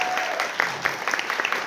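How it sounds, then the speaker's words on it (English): Audience applause for community-based organizations at a health and racial equity action plan launch, a short burst of dense clapping from a mid-sized crowd with a few sharper claps standing out, steady throughout. "Let's give them a huge round of applause."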